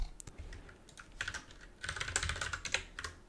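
Rapid, light keystrokes on a computer keyboard, irregular bursts of close clicking that grow busier toward the end, heard alone without talk.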